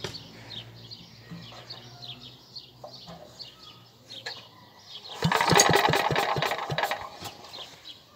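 A Bernard W19A lawn mower engine is pulled over a few times and then catches, running loud and rough for about two seconds before dying down, with birdsong in the background and no speech.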